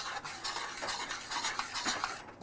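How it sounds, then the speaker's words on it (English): Cooking icing for German chocolate cheesecake being stirred steadily in a pot, a soft scraping swish repeating in a loose rhythm, close and fairly quiet with no talking. "And we constantly stir it"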